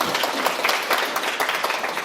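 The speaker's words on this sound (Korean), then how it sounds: "박수 한번 칠까요?" A lecture audience of local residents, professors and students at a Kyungpook National University library talk claps together in a brief, dense, even burst of applause.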